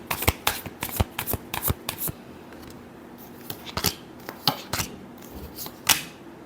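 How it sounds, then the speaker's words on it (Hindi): Tarot cards are shuffled briskly by hand, with a quick series of crisp flicks and riffles coming in short clusters, close up and fairly loud against a quiet room, with no voices. "Last shuffle."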